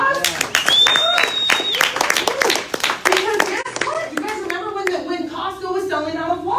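A crowd claps and cheers at a Kangen water event, with sharp clustered claps running the whole stretch, mixed with voices, a whistle and lively chatter as it gradually settles into talk.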